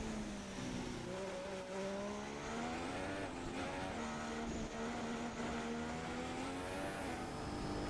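Formula 1 race car in the F1 2016 video game accelerating hard out of Melbourne's Turn 3, a loud, steady engine whine climbing in pitch through the gears, with a brief tire squeal as the car over-rotates under throttle.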